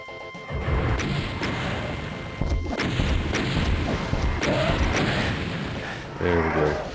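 Heavy rocket blasts from the DOOM Zero first-person shooter, a dense run of booming explosions and crashing impacts filling the stretch, loud and close with game noise layered underneath.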